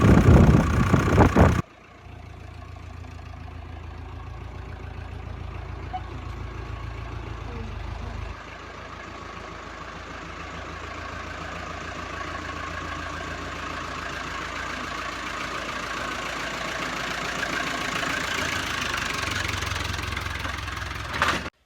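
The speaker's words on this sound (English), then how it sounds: "So this tractor is a 1963, I think." A 1963 Massey Ferguson 130 tractor engine idles steadily and fairly close, a continuous low chugging with a brief change in tone partway through, no voices.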